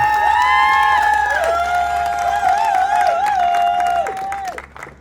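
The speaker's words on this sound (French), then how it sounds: "Applaudissez-leur très très fort." Applause and cheering at a civil wedding, with clapping and joyful shouts, including high ululating or whooping voices, rising loudly together before tapering off.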